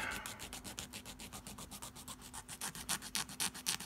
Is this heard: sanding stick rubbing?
yes